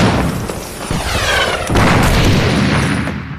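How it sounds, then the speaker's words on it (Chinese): Sustained battle noise of gunfire and artillery fire from a distant attack on a barracks at night, with continuous heavy booms and rumbling, loud and dense throughout with no pauses. "从这里听到枪声炮声不断"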